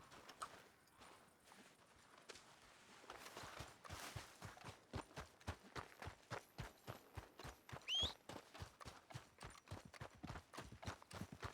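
Horse hooves clip-clop at a steady walking pace in Red Dead Redemption 2, close and rhythmic, quickening slightly partway through, with faint background ambience.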